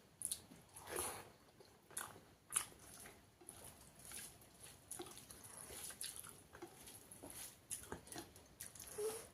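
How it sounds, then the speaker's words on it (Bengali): Someone chews a mouthful of chicken in red curry gravy, giving soft, wet bites and squishy mastication sounds close to the mic, faint and irregular, with no talking. "খাচ্ছি হ্যাঁ খাচ্ছি"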